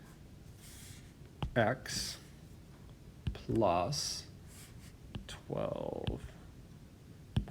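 Scattered light key taps click now and then between stretches of a person talking.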